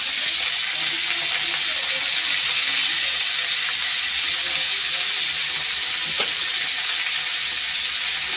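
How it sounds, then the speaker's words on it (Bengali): Cauliflower florets frying in a pan with turmeric and a little salt, giving a steady, continuous sizzle and hiss close up throughout, with a faint clink partway. "দিয়ে এটাকে ভালো করে ভেজে নিই ফুলকপিটা"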